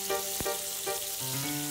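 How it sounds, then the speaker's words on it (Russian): Chopped bacon and onion fry steadily in a pan, a close continuous sizzle with a few brief stirring knocks. "И оставляю все это на сковороде золотиться."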